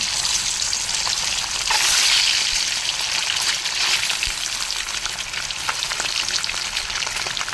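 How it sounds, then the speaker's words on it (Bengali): Loud, continuous hiss and crackle of something frying in hot oil, close by and steady throughout. "কড়াইয়ের তেলটা গরম হয়েছে, আমি ডিমগুলো হাক করে দিয়ে দেবো।"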